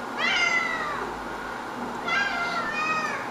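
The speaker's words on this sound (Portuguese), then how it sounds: "Olha o gato gordo." A plump house cat meows indoors in two drawn-out calls, one early and one near the end, close and clear with no talk over them.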